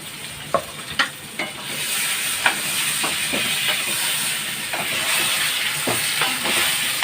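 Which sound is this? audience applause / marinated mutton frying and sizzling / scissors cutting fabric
marinated mutton frying and sizzling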